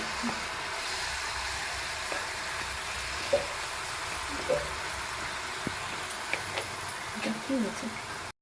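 Jalebi batter spirals fry in hot oil with a soft, continuous sizzle, punctuated by occasional light clicks and taps of a utensil, heard fairly faintly with a low background hum.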